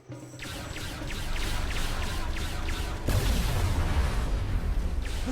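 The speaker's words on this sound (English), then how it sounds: "worm destroyed the metal wall!" A giant worm smashing through a metal wall in Star Trek Online: rumbling, rattling destruction builds, then a heavy crashing impact bursts out midway and leaves a dense, roaring low rumble.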